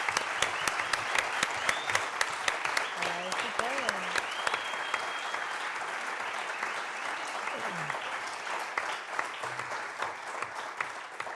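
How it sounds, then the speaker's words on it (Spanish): Audience applause at a union publishing event in Rosario, steady dense clapping throughout with scattered cheers and voices mixed in, fairly loud and close. "un fuerte aplauso para la editorial, un fuerte aplauso para los compañeros"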